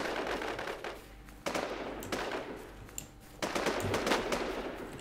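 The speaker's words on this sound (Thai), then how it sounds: "ในเมืองนี่ยิงกันนัวนะ" Gunfire in a town in the video game Infestation, bursts of rapid automatic shots with sharp single cracks, some near and some farther off, starting and stopping in loud clusters.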